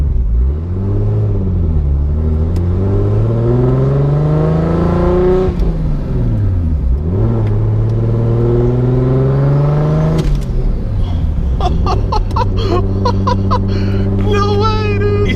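A Nissan 240SX S14 with a swapped RB26/30 engine drives close by, its revs climbing and falling in loud sweeping pulls, with a voice talking over it.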